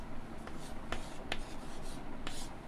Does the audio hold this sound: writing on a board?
yes